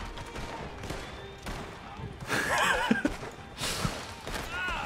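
A horse whinnies in the Red Dead Online video game, with a couple of bright rising-and-falling neighs amid clip-clop hooves, gunfire and busy game noise, with a voice speaking briefly nearby.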